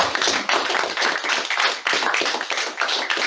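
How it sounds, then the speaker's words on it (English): A round of applause from an audience at a maritime industry event, loud close hand clapping in uneven surges that rise and dip over a few seconds. "So please, a round of applause."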